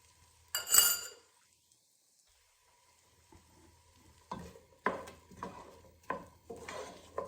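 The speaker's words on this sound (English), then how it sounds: "Now I am going to add onion and some garlic" Onion and garlic fry in a pan during dal makhani preparation, with one loud stirring scrape near the start, a quiet pause, then a run of crackling sizzles and clinking stirs close by.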